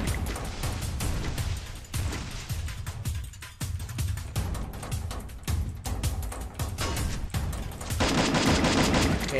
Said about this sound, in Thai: ให้มันยิงกันไป